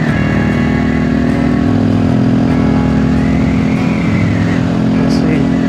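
A Halcyon 250 motorcycle engine runs loud and steady on the road as fuel runs low, with its tone wavering and dipping as it starts to sputter, under wind noise and a rider's voice.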